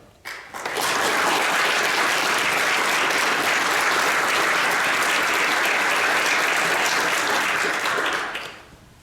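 Sustained audience applause greets Admiral Pete Garvin at a Navy change of command ceremony, a dense, loud clapping from a large crowd that swells quickly, holds steady for about eight seconds, then fades.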